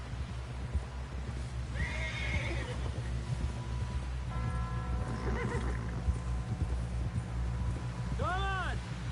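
A horse in Red Dead Redemption 2 whinnies twice over steady clip-clopping hooves, with a low rumbling game soundscape beneath and a voice speaking briefly in between.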